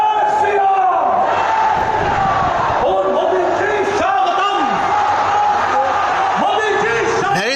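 Large crowd at a Narendra Modi election rally in Bengal, loud and continuous, with massed voices chanting slogans in a steady rhythm that rises and falls throughout.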